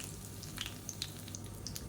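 Curry leaves crackle faintly in hot oil beside whole spices, a low steady sizzle dotted with small sharp pops.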